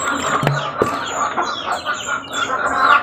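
Chick peeping in a short series of high chirps, with a few knocks and faint clucking of farm fowl nearby.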